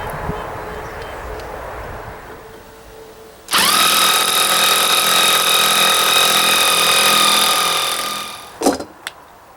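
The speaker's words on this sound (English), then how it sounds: "An impact driver is the best way to put these bolts in here." An impact driver sinks half-inch screws into a ledger plate with a loud, sustained high-pitched mechanical whine that starts abruptly, holds for several seconds, then cuts off into a couple of sharp knocks.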